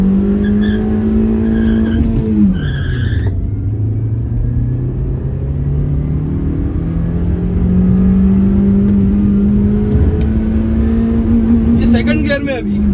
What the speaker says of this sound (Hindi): देखते हैं यहाँ पे सेकंड गियर में अपन ट्राई करके देखते हैं एक बार।